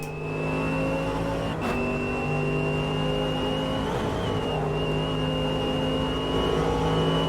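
Race car engine in the sim racing game Automobilista 2 holds a steady, loud tone with strong harmonic whine, briefly shifting once and dipping around midway before settling back to a sustained drone, no voices.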